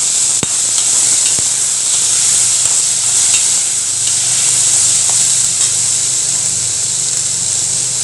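Green peas dropped into melted ghee with cloves in a pan, sizzling steadily and loudly throughout with a continuous bright hiss and occasional small clinks.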